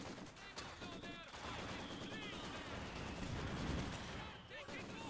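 Maxim machine gun barraging in a multiplayer war video game, a dense stream of rapid gunfire and explosions layered with distant shots, loud and continuous, with faint player chatter underneath.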